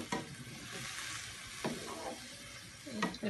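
Milk and grated carrots cook in a pan for carrot pudding, a faint soft bubbling hiss with a few slow scraping stirs, close but quiet, no talk.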